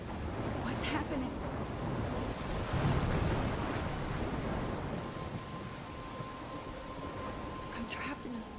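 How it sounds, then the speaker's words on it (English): A thunderstorm in the video game Life is Strange: steady heavy rain and wind roar, with a low rumble of thunder swelling midway, heard without speech. "I'm trapped in a storm?"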